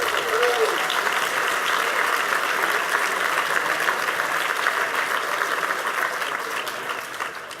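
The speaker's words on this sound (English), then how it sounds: "Let's give them a round of applause" Audience at a governor's address to New York City Outward Bound Schools students applauds steadily, a dense, even wash of clapping that holds for several seconds and fades slightly toward the end.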